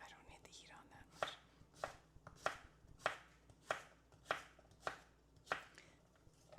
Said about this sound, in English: I'll just get this veg cut up.